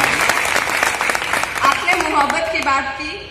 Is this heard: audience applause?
yes